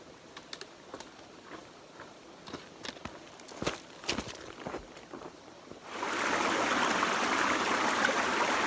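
Footsteps crunch along for several seconds, then a steady rush of flowing water from the West Fork of Rough Creek in the Big Frog Wilderness takes over, loud and close.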